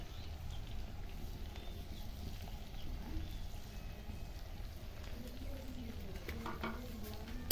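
Bitter gourd, or kakrol, fries in a pan while cumin powder is stirred in, giving a soft continuous sizzle with scraping stirs and a low rumble beneath.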